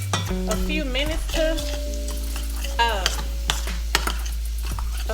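Plant-based meatless ground frying in a pan, with a loud, steady sizzle and scraping stirs, plus a few clinks of a utensil against the pan.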